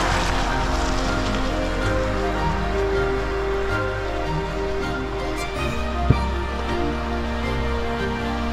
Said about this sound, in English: Yep, I can still hear the rain.